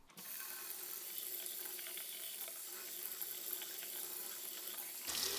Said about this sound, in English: I'm pretty drenching it in water. It's going under a full tap here.